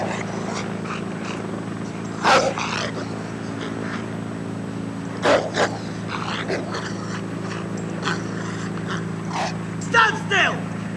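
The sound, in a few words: army dog Brit barking during chase training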